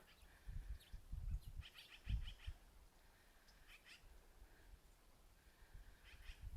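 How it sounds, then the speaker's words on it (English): Several birds call faintly in the distance near a beach, scattered chirps and trills layered over low rustling and handling noise. "Oh, there's so many birds."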